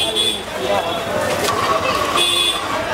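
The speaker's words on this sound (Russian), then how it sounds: "для большинства людей заполненная людьми улица в Индии звучит примерно так." Busy, crowded street in India: a dense wash of traffic noise, crowd babble and intermittent horn toots and buzzes, steady and moderately loud throughout.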